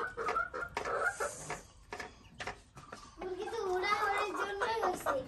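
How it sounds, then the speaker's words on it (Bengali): Backyard chickens cluck softly while feeding, with a person talking and children's voices mixed in throughout. "মুরগি এখন খাবার পাইছে,"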